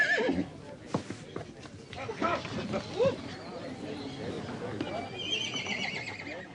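Dartmoor ponies on open moorland whinny loudly at close range, with a sharp neigh midway and a longer high whinny near the end, alongside scattered hoof clatter while people talk.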